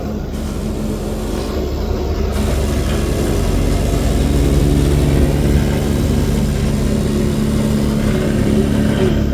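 Small tractor engine running at a car dismantling yard, a loud continuous low rumble with a steady drone that stays close and even throughout, with no talking.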